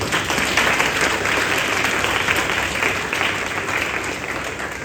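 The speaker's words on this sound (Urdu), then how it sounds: "تو پھر تالی بجا لو۔" A church congregation claps together during a Sunday sermon service, with dense, steady applause filling the space loudly and evenly from start to finish with no speech.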